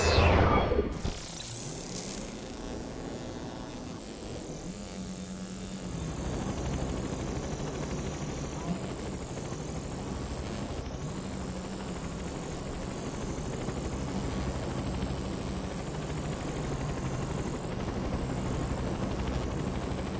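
Helicopters in the video game Infamous Second Son give off a steady, droning rotor and engine hum, after a brief loud burst at the very start.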